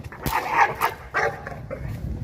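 A female Cane Corso dog barks aggressively, a few sharp, close barks spaced irregularly, with softer whimpering or yipping sounds in between.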